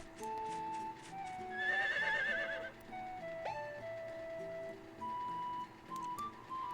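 A horse whinnies with a wavering, shrill call amid electronic game music and soft chimes in Harvest Moon: Winds of Anthos, fairly clear and not overly loud.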